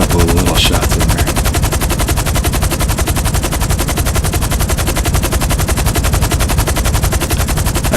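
Gunfire rattles nonstop in GTA 5 Online, a loud, dense automatic burst that holds steady across the whole stretch with no pauses, like a machine gun firing continuously.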